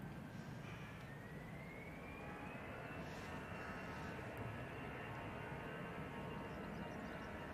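An airliner on approach into Manchester Airport, a steady broad roar with a slowly rising engine whine, sustained and fairly distant throughout.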